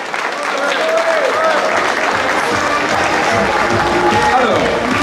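A crowd at a gastronomy fair breaks into loud, sustained applause that fills the whole stretch, with voices murmuring and calling beneath the clapping.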